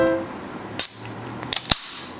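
A bottle cap pops open with a sharp crack, then two more quick snaps and a brief fizzy hiss, close by with no talking.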